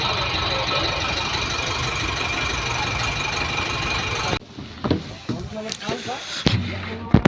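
A bus at Ambardi Safari Park in Dhari drives off with a loud, steady engine roar for about four seconds, then cuts to quieter outdoor sound with scattered knocks and background voices.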